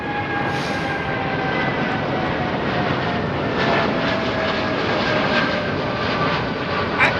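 A Vietnam Airlines jet airliner climbs out of Heathrow Airport on a heavy departure with its gear still down, a loud, steady, close engine roar with a faint whine running throughout and no talking.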